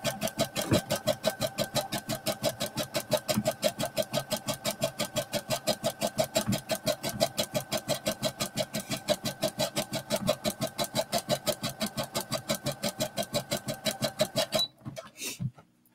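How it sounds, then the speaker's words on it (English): A serger sewing machine feeds stretch fabric for a sports bra through its feet, its fast, steady mechanical whirr running loud and close with a rapid even stitching rhythm before stopping near the end. "I'm just going to let the feet of the machine just feed it right through."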